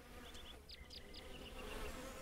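Bees buzzing in the simulation game Lumberjack's Dynasty around a garden where honey is collected, with a faint, steady insect drone and a few short higher tones, all quiet and distant.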